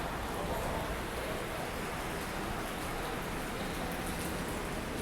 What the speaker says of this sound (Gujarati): હવે વરસાદ ચાલુ લાગે, વરસાદ કેટલું ચાલુ